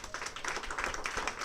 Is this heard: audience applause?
yes